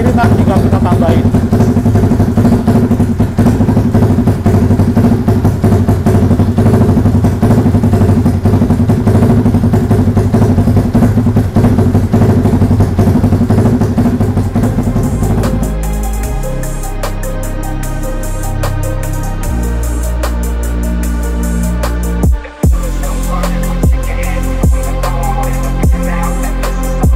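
A Yamaha MX King motorcycle engine fitted with a Cardinals Racing ECU runs loud and close during fuel tuning. It holds high revs for about fifteen seconds, then drops to a lumpy, thumping idle with a sharp clatter near the end.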